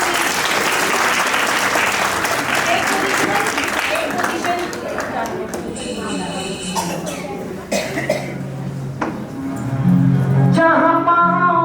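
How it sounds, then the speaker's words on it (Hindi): An audience at a play school annual day breaks into loud, sustained applause for the children, with coughs and voices in the crowd. Music starts as the clapping fades. "तालियां बजा दीजिए बच्चों के लिए।"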